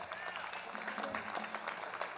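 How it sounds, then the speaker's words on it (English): Steady applause from a crowd at a college jazz band concert, with scattered claps filling the room for a couple of seconds. "Give him a round of applause."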